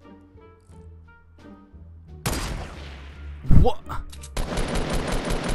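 Gunfire in the Fortnite battle royale video game: a sudden loud burst of shots cuts in over background music, then rapid fire continues to the end, with one short spoken exclamation in the middle.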